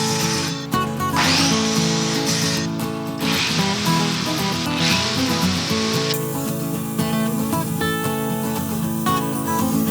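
Loud, continuous power tool run on a wooden plant shelf in a window opening, a steady whine with brief dips and shifts in pitch, running alone without talk.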